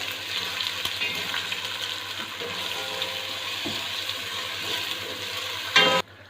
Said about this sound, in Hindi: अदरक लहसुन पेस्ट जो वो फ्राई हो चुका है